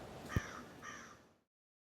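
A crow caws twice in quick succession, a moderately clear call at middle distance, with a dull low thump just before the first caw and silence after.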